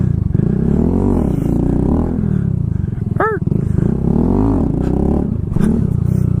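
Kawasaki Z125 motorcycle engine and exhaust, loud and close, rising and falling through repeated revs and gear changes with a steady rumbling drone, wind noise throughout and a brief tonal chirp midway.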